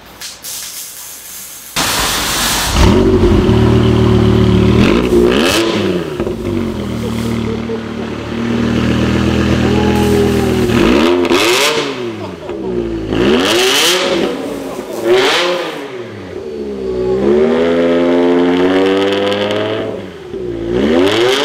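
Straight-piped BMW M5 V10 engine starting and revving, loud and close, with repeated rising and falling throttle blips, a rough idle between them, and a hissy exhaust edge.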